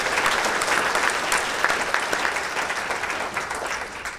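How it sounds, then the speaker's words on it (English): Audience at a chamber of commerce legislative wrap-up luncheon gives a round of applause for guest speakers, a steady wash of many hands clapping together, sustained evenly and fading slightly toward the end. "So please join me in a round of applause, again thanking them for representing us."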